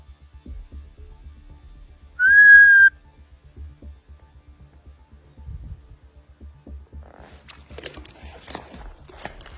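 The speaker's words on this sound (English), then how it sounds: "He lets out a whistle, waiting for a reply." A single clear whistle, about a second long, rises out of a quiet outdoor setting with soft thumps and rustling around it.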